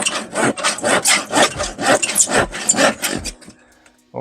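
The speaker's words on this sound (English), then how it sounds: "continuously sawing wood" A hand saw rasps through wood in quick, regular back-and-forth strokes, close up, then stops, leaving near silence.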